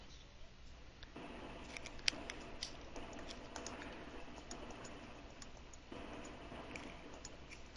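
Rapid keyboard typing runs steadily through the whole stretch, faint and close, with a few sharper key clicks, picked up over a remote meeting connection.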